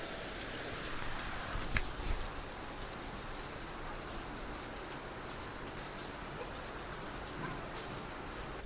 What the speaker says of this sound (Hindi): सो आपने देखा कितनी अच्छी बारिश हो रही है